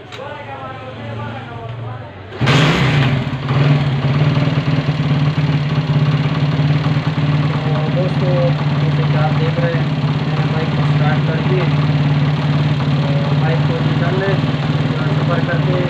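A motorcycle engine starts up abruptly after a quiet moment and settles into a steady, loud, close idle with a low droning rumble and faint mechanical ticking.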